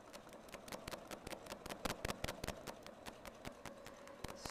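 A sewing machine stitches around a quilting template on a sampler block, giving a rapid, steady train of sharp mechanical clicks at close range with no talking.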